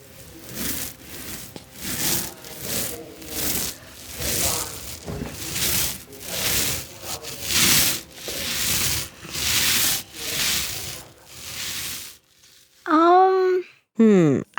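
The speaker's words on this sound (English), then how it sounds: "that was the sound of me rolling a paint roller on a wall" A paint roller rolls across a wall in steady, even strokes, a soft rhythmic rubbing swish about once a second, followed by a couple of short voiced sounds.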